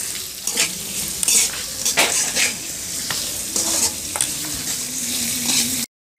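Onions and whole spices frying in a pan with a little salt, browning for a soybean and potato curry, with a steady sizzle and repeated scraping stirs and utensil clinks before the sound cuts off.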